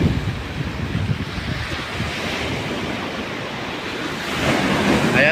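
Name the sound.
big ocean waves on the shore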